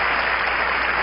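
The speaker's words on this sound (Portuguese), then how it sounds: "Vamos aplaudir ao Senhor se você crê." Church congregation applauding during an evangelistic service, a dense, loud, unbroken roar of many hands clapping together, sustained evenly throughout with no voices standing out.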